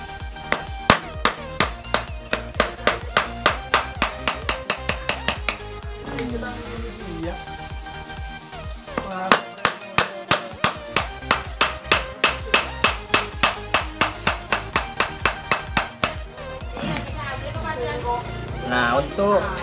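A hammer strikes a nail on a flat wooden block during repair of a motorcycle clutch housing, with rapid, sharp, loud metallic blows in long regular runs, separated by short pauses and clattering handling.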